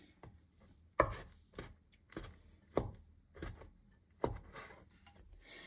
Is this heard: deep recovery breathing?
no